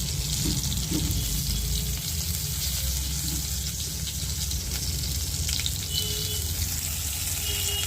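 Food placed in lightly heated oil fries with a continuous, even sizzle and crackle, close and steady throughout with no voices.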